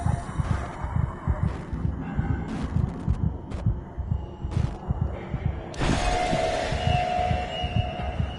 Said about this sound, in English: I like how you can hear Simon's heartbeat